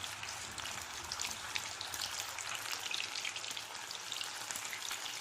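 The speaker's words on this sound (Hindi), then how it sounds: "धीरे से कीमे की गोली इसमें डाल दें। इसे बैचेस में ही फ्राई करें, एक वक्त में ज्यादा ना डालें।" Minced-meat balls for Old Delhi style keema kebabs frying in oil, a dense, even crackling sizzle like light rain, close and steady for a few seconds with no talking.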